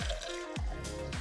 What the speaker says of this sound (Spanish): sacas el agua filtrada, salud.